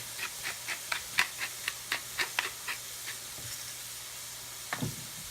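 Butter melting in a pan, a soft steady sizzle with a quick run of light rhythmic ticks and taps as it is stirred, then a brief scrape near the end.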